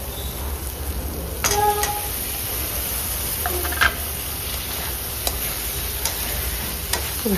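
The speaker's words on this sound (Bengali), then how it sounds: "এখন চিংড়ি মাছগুলোর সাথে মশলাগুলো ভালো করে মিশিয়ে নিচ্ছে।" Prawns are stirred through a mustard and coconut spice paste in a pan. A soft, low sizzle sits under sparse, sharp clicks and scrapes of a spatula against the pan.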